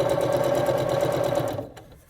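A sewing machine stitching through foundation paper piecing, a fast even run of close, loud stitches that stops abruptly after about a second and a half.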